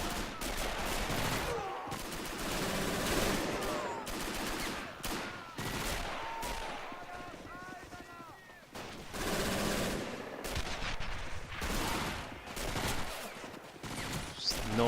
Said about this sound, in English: Noise of the MG42, such a good noise